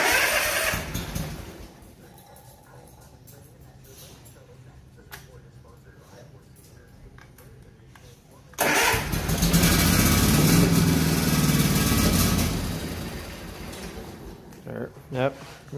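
An engine that smells heavily of fuel idles roughly, then revs sharply up to about 4,000 RPM, holds loud for several seconds and drops back down. Voices talk nearby.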